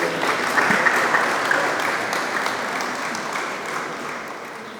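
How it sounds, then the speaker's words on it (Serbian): Audience at an award ceremony applauding, a dense and steady wash of clapping from many hands that fades slowly toward the end, with no voices over it. "vas molim da ga pozdravimo jednim aplauzom"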